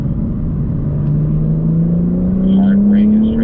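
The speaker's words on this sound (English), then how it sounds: "And then roll on throttle as you unwind the wheel." A BMW accelerates out of a corner on a track at a driving school, its engine note climbing steadily as it pulls away, loud and close, with a voice talking over it.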